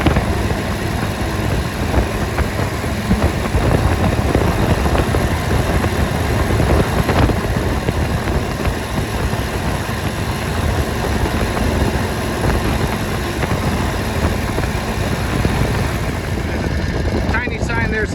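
A 1942 WW2 Harley WLC motorcycle rides the rural backroads of Manitoba with a steady, close engine rumble mixed with rushing wind. The sound stays constant throughout.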